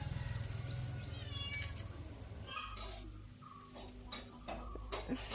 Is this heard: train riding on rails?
no